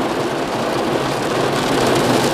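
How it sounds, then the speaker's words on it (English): Hail pours down in a heavy cloudburst outside a Trader Joe's, a dense, loud, unbroken hiss and clatter of ice and rain with no pauses or voices. "Look, there's ice in there. Hail."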